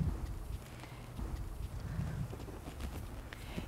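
A ridden horse's hooves clip-clop steadily during a riding lesson, a continuous rhythmic patter of footfalls at moderate distance with some low rumbling background.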